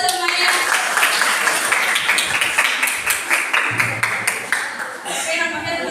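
A classroom of high school students claps their hands together in a lively, uneven burst of applause with some laughter mixed in, tapering slightly toward the end.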